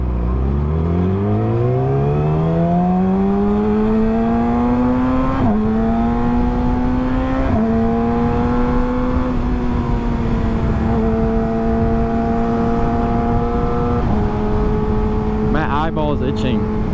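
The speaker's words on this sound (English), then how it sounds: "He's literally hitting a wheelie right now." A Yamaha R6 sport bike revs in rising, stepped pulls during a wheelie, sounding loud and fairly close as its pitch climbs through several gear changes, with a brief burst of other noise at the end.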